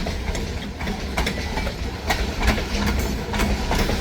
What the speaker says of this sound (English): This is the northbound train we would have seen.